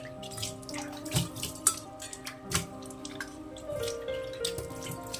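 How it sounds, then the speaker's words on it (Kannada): Copper and brass puja vessels being rinsed in clean water, with light drips and splashes trickling irregularly over a soft running-water wash, close and fairly quiet. "ಈಗ ಬೇರೆ ನೀರು, ಕ್ಲೀನ್ ನೀರಲ್ಲಿ ವಾಶ್ ಮಾಡ್ಕೊಬೋದು."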